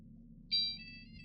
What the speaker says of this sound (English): Now my phone's ringing.